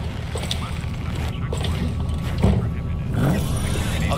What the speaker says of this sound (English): Keep the engine running, in case of a cock-up.